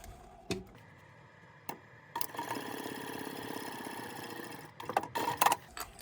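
A sewing machine stitches a quarter-inch seam along the top edge of a fabric clutch, running in a steady whir for a few seconds between quieter handling sounds, close and fairly soft.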